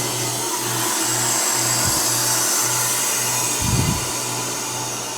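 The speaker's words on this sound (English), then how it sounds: "So shut off the pump, open the drain valve" A home freeze dryer runs with its drain valve open, a loud steady broadband rushing hiss over a low pulsing hum that cuts in and out, with a brief rumbling burst partway through.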